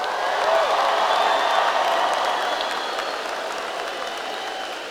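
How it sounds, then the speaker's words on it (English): Steady applause from a large graduation audience at a high school commencement ceremony, dense and sustained clapping with a faint crowd murmur, easing slightly toward the end. "Please continue your round of applause"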